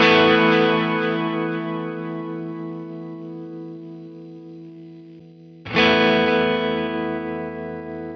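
Electric guitar played through a tape echo effect on a Fender Tone Master Pro: a sustained chord rings out and slowly decays, then a second strum cuts in sharply and sustains, with no voices.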